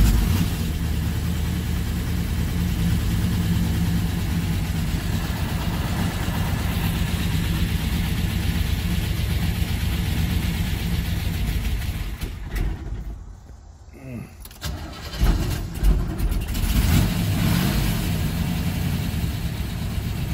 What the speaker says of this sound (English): I'll turn up the idle about 100. That should help.